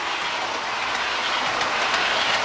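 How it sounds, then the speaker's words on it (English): Eight model trains run at once on an indoor layout, giving a dense, continuous rolling hiss with faint rhythmic clicking of wheels over track joints. "8 trains all running at once"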